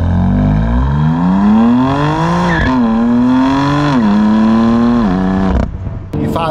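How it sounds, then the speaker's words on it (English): BMW M2 Competition accelerating hard, its engine note climbing through the revs with quick dips at gear changes, loud and close from inside the car, easing off near the end. "into another gratuitous acceleration run"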